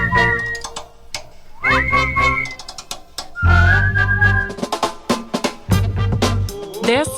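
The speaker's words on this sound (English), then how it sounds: "let's whistle it together." Someone whistles a short tune in several phrases, with sliding pitches and a few clicks between them, loud and close.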